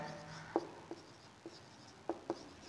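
A set definition written out during a math lesson on sets, heard as a few short, quiet scratchy pen or marker strokes spaced irregularly against a faint room background.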